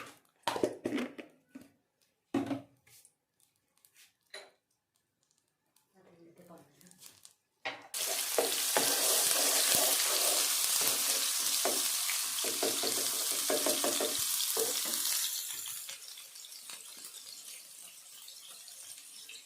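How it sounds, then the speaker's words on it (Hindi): Ginger garlic paste browning in ghee in a pan for a masala rohu fish curry. A voice talks over quiet kitchen clatter, then a loud, steady sizzle rises and holds for several seconds before easing off. "ये हमने लिया 1 चम्मच अदरक लहसुन का पेस्ट, इसको हल्का सा ब्राउन करेंगे।"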